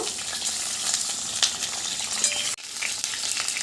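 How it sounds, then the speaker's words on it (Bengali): Pointed gourd (potol) pieces frying in hot oil in a wok, a dense continuous sizzle with occasional stirring scrapes and a brief clatter near the end. "কড়াইয়ের তেল গরম হয়ে গেছে, পটলগুলো ভেজে নেব।"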